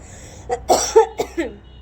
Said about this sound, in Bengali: তার সাথে সাথে আমার কাশিও হয়েছে